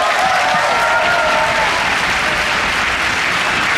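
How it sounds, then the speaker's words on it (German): Sustained audience applause fills a hall at the finale of a Magic Christmas show, a dense, steady wash of many hands clapping at even loudness throughout. "Unseren Applaus von der Audience"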